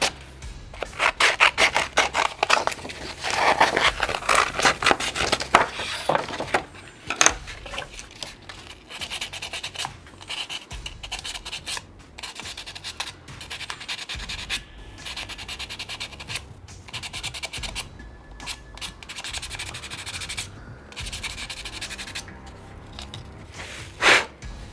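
Hand sanding a Forge World resin model part with 400 grit sandpaper, close irregular rasping and scratching strokes in uneven bursts, with short pauses between passes.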